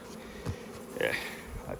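Honey bees buzzing as hive frames are shaken, a faint, close hum that swells briefly in the middle, alongside quiet speech.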